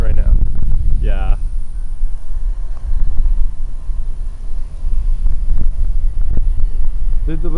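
Strong wind across a lake roars and buffets the microphone in loud, gusty low rumbles throughout, with brief voices and a few short tonal sounds breaking through.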